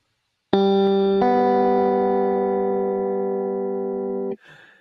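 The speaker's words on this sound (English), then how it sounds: "And when you play the two strings normally, you can still hear those interference beats." Two strings on a kite guitar sound together as a loud, sustained electric tone, with a second note entering shortly after the first; both ring for several seconds with slow interference beating before being cut off.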